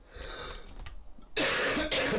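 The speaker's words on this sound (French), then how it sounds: "Excusez-moi, ça tousse." Coughing fits up close during a maths lesson, a few quieter breathy sounds followed by two loud harsh coughs in quick succession.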